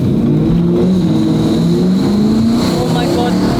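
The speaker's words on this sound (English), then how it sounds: "Oh my God, this car's too fast." A BMW E30 accelerates hard on the road, its engine droning loud and steady with rising harmonic pitch, close and continuous throughout.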